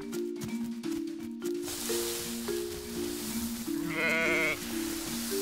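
A sheep lets out a wavering bleat near the end, heard over continuous background music with held notes.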